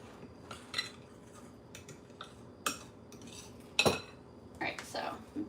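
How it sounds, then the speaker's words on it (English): A spoon stirs flour into a mixture in a bowl for a cheesy sausage pasta skillet, giving irregular scraping and clinks of metal against the bowl, close and moderately loud. "So I'll just stir it here until the flour is like just combined in there."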